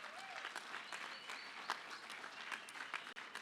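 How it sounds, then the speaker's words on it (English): A crowd applauds auctioneer finalists at an auctioneer championship, with continuous mid-distance clapping and a few sharper individual claps standing out over the short span. "Please give them a huge round of applause."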